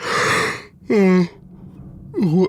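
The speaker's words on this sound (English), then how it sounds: "Sorry about the yawn." A breathy, drawn-out yawn with a rising and falling vocal moan, followed by a second groaning exhale; close and fairly loud.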